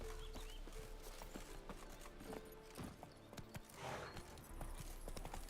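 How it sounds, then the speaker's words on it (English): Horse hooves in The Witcher 3 clip-clop steadily as the horse trots up after being called, with a faint whinny partway through and a low game ambience underneath. "I'm literally just spamming away trying to call that horse."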